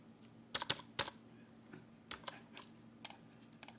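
A computer keyboard being typed on in short bursts, a few quick clusters of crisp key clicks spaced by brief pauses, close and clear in a quiet room.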